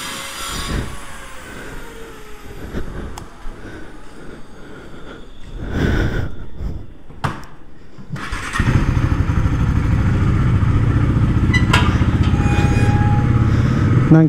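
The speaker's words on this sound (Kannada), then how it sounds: "ಹಾಗೆ ಗಾಡಿ ಪಟ್ ಅಂತ ಸ್ಟಾರ್ಟ್ ಆಯ್ತದೆ" A modified KTM Duke 390 motorcycle engine fires up with a sudden loud catch partway through, then settles into a steady, close, throbbing idle, with no talking.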